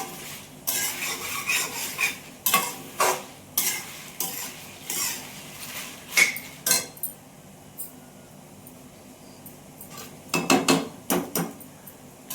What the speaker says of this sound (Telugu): మాడకుండా ఇట్లా లైట్గా వేయించుకున్నాక